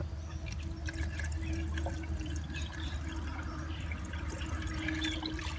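Pre-mixed engine coolant pours in a continuous steady trickle with splashing, close and fairly quiet over a low background hum.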